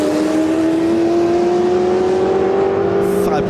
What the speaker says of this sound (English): Fabulous sound of the big Ford V8.